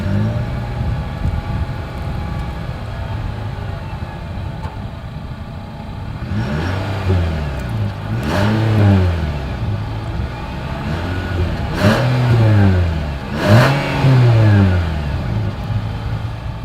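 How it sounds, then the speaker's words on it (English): A 2020 Nissan Sentra's exhaust idles with a low rumble, then barks through several sharp revs in a row, each rising and falling quickly, close and loud. "As always, here is that exhaust clip."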